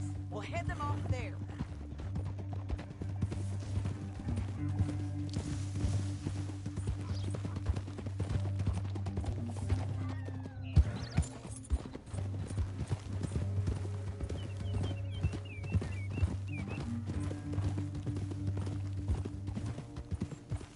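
Steady clip-clop of horse hooves, a continuous rhythmic trot, with a low hum and occasional voices underneath.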